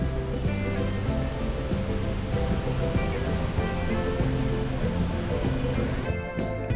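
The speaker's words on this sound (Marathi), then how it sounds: "वॉकवे वरून चालताना वेगवेगळ्या अँगल्सने नदीचा प्रवाह आणि धबधबे दिसत होते." A river's flow and waterfalls in Kutaisi, Georgia, heard from a walkway, make a dense, steady rushing roar that stays even and close throughout.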